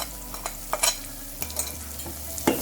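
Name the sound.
ground masala paste frying in oil while stirred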